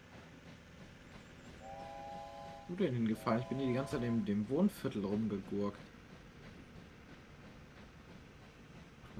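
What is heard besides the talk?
train passing in Wobbly Life video game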